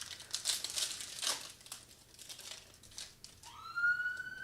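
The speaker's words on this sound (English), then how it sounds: "It's a siren because of how hot this hit's about to be" Crinkling of foil booster-pack packaging during a Pokémon card opening, then a rising electronic siren sound effect sweeps in near the end, fairly loud and synthetic.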